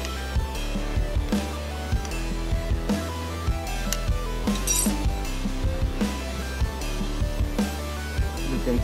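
A key tightens the disc on a Bosch GWX 6-100 4-inch angle grinder, giving small, close metallic clicks and clinks scattered over steady background music.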